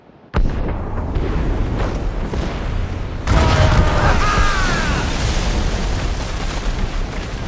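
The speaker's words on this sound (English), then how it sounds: "Did you hear that? Cannon fire. Deep within the fog." In the video game Assassin's Creed Rogue, a deep, muffled cannon boom rolls out through fog, followed by a steady rumbling wash of ambient noise with faint distant tonal calls.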